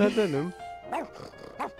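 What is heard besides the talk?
dog barking in The Sims video game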